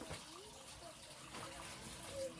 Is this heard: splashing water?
yes